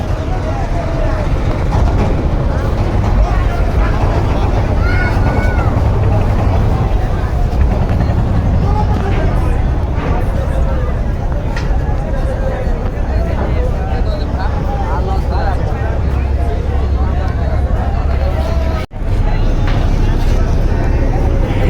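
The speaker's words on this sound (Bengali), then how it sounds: "ঘাটে প্রবেশ করতে যাচ্ছে সুন্দরবন বারো লঞ্চ" Sundarban 12, a passenger launch, pulls into a river ghat with a loud, steady engine rumble and churning water, while a crowd murmurs in the background throughout.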